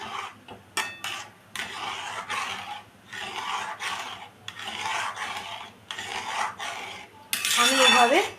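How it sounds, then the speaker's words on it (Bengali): A spoon scrapes and rasps against a pan while semolina dough is stirred. Irregular bursts of scraping repeat at a close, moderate level, with a harsher clatter at the end. "আমি এভাবে নাড়তে নাড়তে পুরো একটা ডো তৈরি করে নিচ্ছি"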